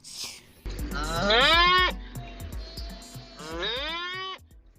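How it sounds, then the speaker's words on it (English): An ox lows in two long, drawn-out moos that rise in pitch, both close and loud, over a steady low rumble of background noise. "ox,"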